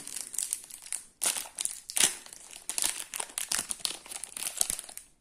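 A Wankul season 1 trading card booster pack's plastic wrapper is torn open close up, giving loud crinkling and crackling bursts in uneven spurts with short pauses, with no talking.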